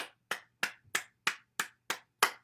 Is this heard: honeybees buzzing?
no